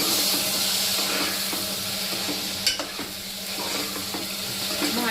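Chopped vegetables, pumpkin (bhopla) and drumstick, go into hot oil over softened onion and tomato for bhopla dal. There is a steady broadband sizzle with a few stirring scrapes and a sharper clatter midway. No one speaks.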